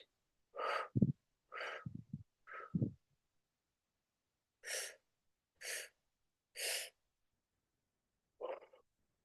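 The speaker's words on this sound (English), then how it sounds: "You keep breathing like this." Rhythmic three-part breathwork: a series of sharp, close breaths in short quick bursts, with grouped inhales and exhales separated by pauses and no talking.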